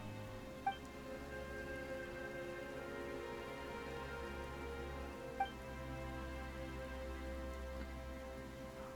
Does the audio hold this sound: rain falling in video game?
yes